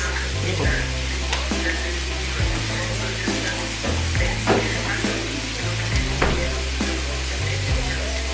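Pasta and mince being cooked in a pan, with constant loud sizzling and frying noise and repeated scraping of a utensil as the food is stirred.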